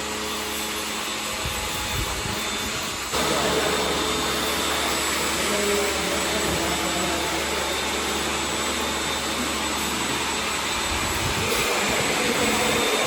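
A water sprayer hisses steadily as it washes a Mahindra tractor, a continuous broadband rush that jumps louder after a few seconds and holds for the rest, close and unbroken, with no talk.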